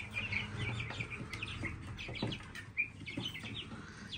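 Chicks peep and chickens cluck softly inside a village coop, with busy high chirping throughout and a low steady hum underneath, fairly faint and close.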